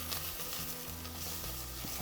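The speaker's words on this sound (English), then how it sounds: "I'm going to add our turmeric and give this a quick stir in and get it nice and fragrant" Turmeric being stirred into browning pieces in a hot pan, giving a steady close sizzle with soft scraping of the spoon throughout, no voices.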